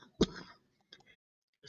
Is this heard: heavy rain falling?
no